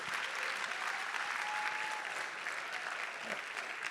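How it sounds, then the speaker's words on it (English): Steady applause from a civic audience at a mayor's State of the City address, a dense, even wash of clapping held at the same level for the whole stretch with no pause. "Round of applause, please, for"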